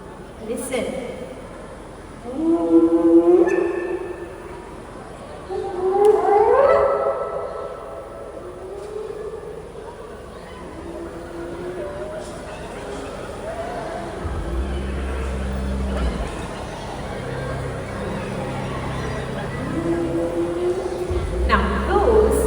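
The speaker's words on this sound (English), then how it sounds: "those are the famous calls of the spotted hyenas, used to communicate with other members of the clan." Spotted hyenas call repeatedly at a night safari, with rising whooping cries in two louder bursts followed by a quieter stretch and low rumbling underneath.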